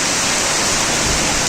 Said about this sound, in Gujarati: પવન સાથે વરસાદ છે વડામાં।